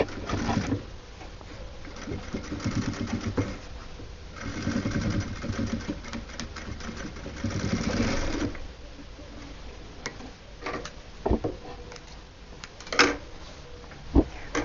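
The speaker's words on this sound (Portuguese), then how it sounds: "Se você estiver fazendo na máquina doméstica, né, fica atento porque vai ter bastante volume" A domestic sewing machine stitches through bulky, thick folded fabric for a handmade Father's Day gift, running in rapid mechanical bursts that stop and restart, with softer handling noises between runs.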